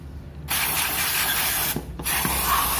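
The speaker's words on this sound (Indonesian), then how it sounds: "Ini bagian selang yang ada lubangnya kita semprot semua." Cleaner sprayed from an aerosol can onto the throttle body of a Daihatsu Taruna EFI, two long, loud hissing bursts with a brief pause between them, close to the listener.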